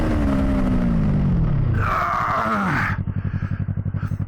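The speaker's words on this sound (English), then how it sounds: "All right, so from a stop. That's full throttle." A Yamaha YZF-R3 sport bike pulls away from a stop at full throttle, its engine note climbing in pitch through a gear change, then dropping away to a low, pulsing idle as it slows.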